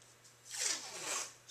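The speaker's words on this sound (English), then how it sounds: "just put the tape on, push down" Duct tape is pulled from the roll and applied to a pickup truck rear window, giving a short ripping, tearing rasp that swells twice, close and moderately loud, with no talk.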